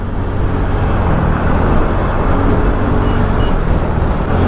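A TVS Ntorq scooter rides through busy Chandigarh traffic, with a loud, steady rumble of engine and road noise mixed with surrounding vehicles and constant wind buffeting.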